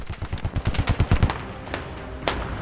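Rapid video-game gunfire as a player shoots toward enemies in a Combat Engineer match, a dense burst of close shots for about a second, then scattered fainter shots and one sharp late report.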